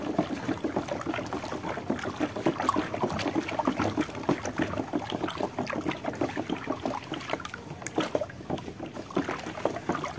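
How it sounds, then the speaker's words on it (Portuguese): Hot water pours steadily into a basin while homemade bar soap with baking soda is being made. It is a continuous, splashy gush at moderate volume, alone with no voices. "Já tá vindo água quente ali, que é os 4 litros de água quente."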